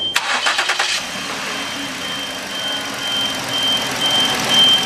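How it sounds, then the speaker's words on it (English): A Ford Edge engine cranks with a quick run of starter whirs for about a second, then catches and settles into a steady, fairly loud idle with a faint high tone running through it. "now we got to start the engine up"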